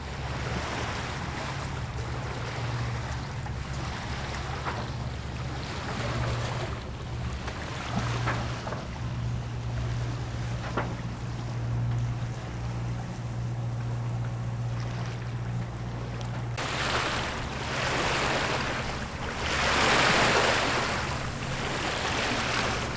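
A sailboat motoring at sea toward Gibraltar, with a steady low engine drone under constant wind buffeting and the wash of water along the hull, rising briefly in gusts.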